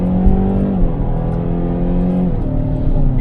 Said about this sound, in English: You can see here, do a couple downshifts.